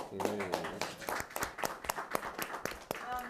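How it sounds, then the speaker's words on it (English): At Atlanta's first fashion show press conference, an audience gives a quiet, scattered round of hand claps while a person keeps talking over them. "give yourselves a round of applause for making history"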